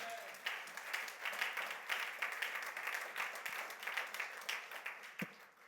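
A church congregation applauding and cheering in praise of the king of kings, a dense, sustained wash of many hands clapping that stays loud and steady throughout, with scattered sharper claps standing out.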